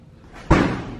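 A door slams shut with one sudden heavy thud that rings briefly and fades, loud and close after a quiet, near-silent moment.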